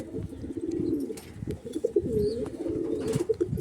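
Domestic pigeons in a sale loft give a steady stream of low, throaty coos, several birds overlapping nearby, with a few sharper chirps and shuffling sounds mixed in.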